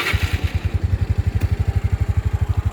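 A Yamaha Mio Soul scooter engine fires up and settles into a steady, rapid putter, its even pulses close and loud with no talking.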